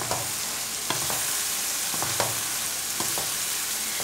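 Boiled chickpeas stirred into a simmering eggplant curry, with a steady broadband sizzle and several sharp spoon scrapes and clatters spaced through, close and fairly loud, no talk.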